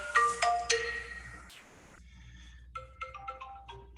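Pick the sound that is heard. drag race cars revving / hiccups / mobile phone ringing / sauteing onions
mobile phone ringing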